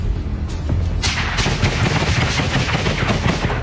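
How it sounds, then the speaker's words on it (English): Rapid bursts of gunfire in a combat firefight, loud and close, with dense overlapping shots and booming reports filling the whole stretch. "At that moment, he spotted them too and opened fire first."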